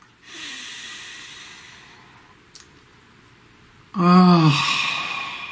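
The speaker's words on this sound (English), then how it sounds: "Please take a nice deep breath." A slow, deep breath drawn in with an airy hiss, followed later by a louder, breathy exhale that has a hummed, voiced edge, close and alone without speech.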